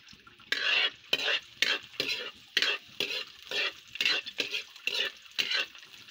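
Onion and garlic frying in a pan are stirred in rapid, regular bursts, each scrape bringing a loud sizzling hiss and a clink of utensil on metal, repeated about a dozen times.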